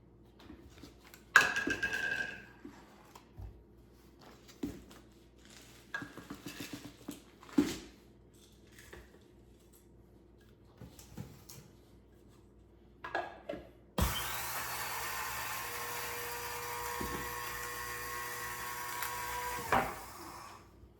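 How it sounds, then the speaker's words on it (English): A spice grinder pulverises oats into flour, starting abruptly as a loud, steady whirring buzz that runs for about six seconds after a stretch of quiet kitchen clatter and handling noises. "So let me get my grinder. And I'm using my spice grinder for that."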